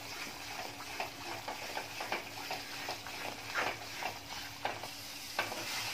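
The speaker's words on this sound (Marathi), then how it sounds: "जरा सतत ढवळत राहायचं आहे" Thickened kalakand barfi mixture with a little ghee being stirred steadily in a pan, soft repeated scraping strokes over a low sizzle, fairly quiet with no talking.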